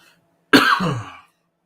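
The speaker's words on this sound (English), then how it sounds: "I got this cough that just won't quit." A single harsh cough burst, close and fairly loud, with a raspy throat-clearing tail lasting under a second, then silence.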